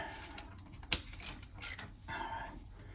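A ratchet with a 5/8 socket tightens bolts on the head of a B&G 100 series three-piece circulator pump, giving close, quiet bursts of metallic clicking with short pauses between turns.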